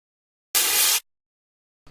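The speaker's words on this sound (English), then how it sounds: "Kind of like a distorted, like almost like white noise type of just sound." A single distorted, white-noise-like clap sample bursts out as a flat hiss lasting about half a second, cut off abruptly, followed by silence.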